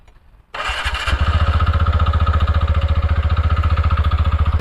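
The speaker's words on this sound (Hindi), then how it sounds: "तो आप देख सकते हैं कितना ज़्यादा लाउड एग्जॉस्ट की आवाज़ आ रही है यहाँ से।" A TVS Ntorq scooter with a tuned exhaust starts up and settles into a loud, rapid, evenly pulsing idle, heard close and alone.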